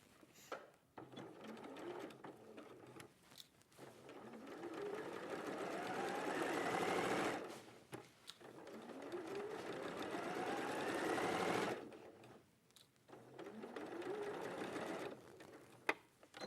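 A sewing machine stitches quilt pieces together in three long runs, each speeding up into a steady, rapid whir before pausing, with faint room sounds in between.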